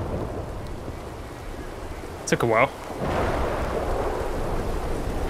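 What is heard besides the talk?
thunderstorm and rain starting in video game Red Dead Redemption 2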